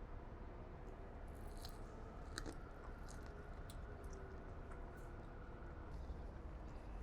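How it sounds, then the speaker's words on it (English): Someone bites and chews grilled corn on the cob topped with a layer of crunchy chips, making soft, close crunching and munching sounds over a quiet, steady background. "The crunch of the chips is really nice."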